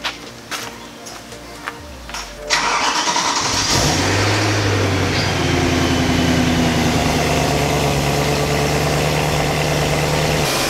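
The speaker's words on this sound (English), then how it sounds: "this is a startup on a 2008 BMW M3" A 2008 BMW M3 starts up after a few faint clicks. The engine cranks, catches with a loud flare, then settles into a steady, close idle that continues to the end.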